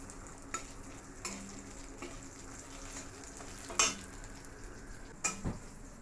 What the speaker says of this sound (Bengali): আগে বেগুনটা ভেজে নিই